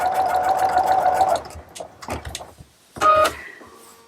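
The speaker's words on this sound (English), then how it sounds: "We're just going to sew around" A sewing machine stitches around the edges of a shelf-liner gripper, running in a steady mechanical burst, pausing briefly, then whirring again in a short run, close and clear with no talking.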